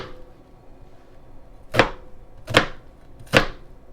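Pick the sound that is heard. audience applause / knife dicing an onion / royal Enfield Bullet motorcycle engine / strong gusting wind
knife dicing an onion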